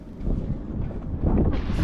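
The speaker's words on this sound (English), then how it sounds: "Okay, so now we have a gust of 30." A strong wind gust of about 30 knots sweeps over a boat at a dock, a steady broadband roar buffeting the microphone and swelling louder toward the end, with no voices.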